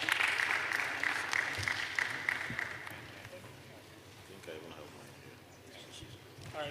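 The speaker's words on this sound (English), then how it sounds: "a warm round of applause." A warm round of applause rises from the audience at a WASH innovation fair, dense clapping for about three seconds before thinning out, with a presenter speaking afterward.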